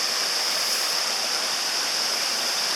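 Clear river water rushing steadily through woodland, a constant close hiss of flowing current with no pauses, strong in the upper range and with no voices over it.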